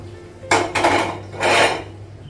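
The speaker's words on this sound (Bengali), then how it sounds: "কড়াইটা নামাবো আর তাওয়াটা বসাবো" A kadai is lifted off a gas stove and a tawa griddle is set down, giving two distinct metallic clanks and scrapes of cookware close by, with no talking.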